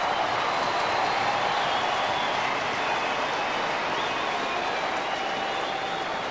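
A large crowd roars in a continuous, dense wash of cheering and clapping after a goal at an AFL match between the Sydney Swans and Richmond Tigers, steady and loud throughout with no break.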